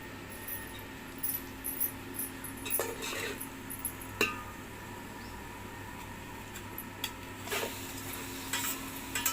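Mutton coated with turmeric and salt sizzles in a pan over a village wood-fired stove, with steady frying hiss broken by scrapes and clinks as it is stirred.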